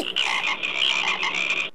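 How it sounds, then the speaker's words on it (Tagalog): A frog-croak cellphone ringtone plays as a loud, steady run of rapid croaks lasting under two seconds, then cuts off. "Sa kanyang paggising, ang ringing tone sa cellphone ni Dennis, syempre,"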